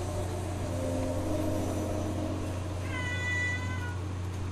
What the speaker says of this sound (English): This cat is just incessantly making sounds.